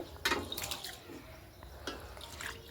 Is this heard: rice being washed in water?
yes